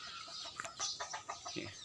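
Chickens kept in a pig pen cluck softly in a quick run of short, faint calls close by, with no talking.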